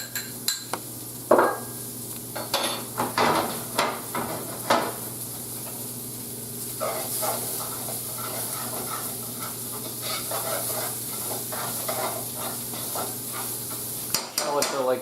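Shallots frying in a pan alongside a pepper-crusted steak au poivre, a steady sizzle broken by a string of short stirring scrapes and utensil knocks, close and moderate in level, no speech.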